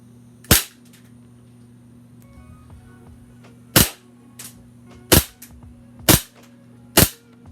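Airsoft Glock pistol fitted with a hop-up, firing five sharp, snappy pops, one alone and then four in a quicker, uneven run, close and crisp over a faint background hum.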